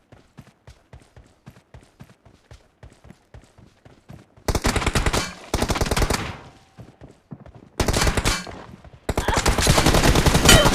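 Gunfire in the video game BGMI (PUBG) played on an iPhone 15. A steady run of faint thumping footsteps leads into several loud, sustained bursts of automatic fire broken by short pauses.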